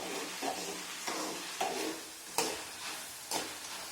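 Jackfruit chips fry in hot oil with a soft, steady sizzle, broken at regular intervals by stirring or scooping sounds.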